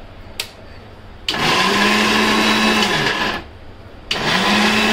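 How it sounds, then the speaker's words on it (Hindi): A kitchen mixer grinder grinds spice masala in two loud, steady bursts, each cutting off with a brief pause in between, close up with no talking. "इसको मसाले को मिक्सी में ग्राइंड करके अच्छे से, जब तक एकदम बारीक नहीं हो जाता"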